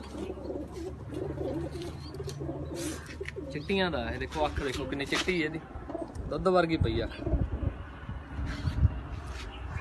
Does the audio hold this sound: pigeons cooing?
yes